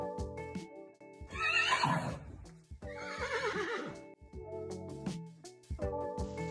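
Horses in the video game Star Stable whinny and neigh in several loud, close bursts, one answering another, with faint hoof clip-clops in between and no talk.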